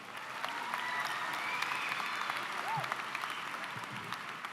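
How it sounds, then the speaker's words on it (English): Crowd at a high school commencement ceremony giving a round of applause, continuous even clapping from many hands, somewhat distant, with a brief whoop rising above it. "Let's give him a round of applause."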